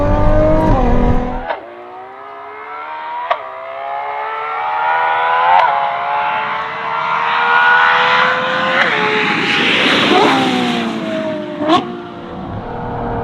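A Novitec-tuned Ferrari 12Cilindri with a 6.5-litre naturally aspirated V12 and 8-speed F1-style gearbox drives hard, its loud engine climbing through rising revs with sharp gear changes and a swelling howl near the end, with no voices.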